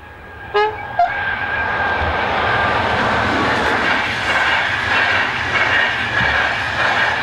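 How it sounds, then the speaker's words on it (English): An SNCF BB15000 electric locomotive runs light engine through Wittelsheim, north of Mulhouse, giving two short horn toots at the start before a steady, loud rolling rumble and rail noise continue throughout. "Fifteen oh three six heads north light engine through Wittelsheim, north of Mulhouse."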